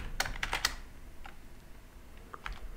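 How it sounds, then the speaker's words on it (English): Short bursts of typing on a computer keyboard during OpenBSD disk partitioning, a quick cluster of crisp close keystrokes followed by a few scattered clicks, with no talk. "For that, I type 30G."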